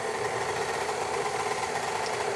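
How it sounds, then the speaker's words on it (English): A KitchenAid stand mixer on its low setting grinds flour with a milling attachment, giving a loud, steady mechanical whir and rumble with no pauses and no talking. "So just want to make sure that the KitchenAid is locked and it won't lift up. And then I'm just going to turn it on to the low setting."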